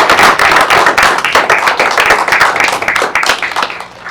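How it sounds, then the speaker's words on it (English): Room of people clapping at a school district board of trustees meeting, a dense burst of hand claps with individual sharp claps audible, loud and steady before thinning out near the end. "So if we could please have a round of applause for Mr. McCardle here."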